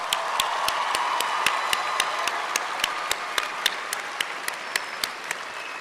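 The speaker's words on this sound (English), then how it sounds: "Let's give these graduates a round of applause." Sustained applause from an audience at a university commencement ceremony for graduates, a dense steady wash of many hands clapping with a few sharper individual claps standing out throughout, no talk over it.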